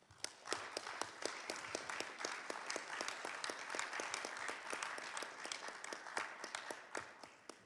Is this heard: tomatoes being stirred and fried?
no